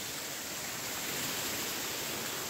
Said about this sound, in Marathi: हा पाण्याचा धबधबा, हे वरतून येणारा धाबा आहे.